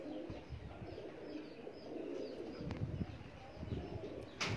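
Pigeons coo softly and faintly in a quiet setting where a pigeon fancier keeps his birds, with low background rumble and a brief flutter near the end.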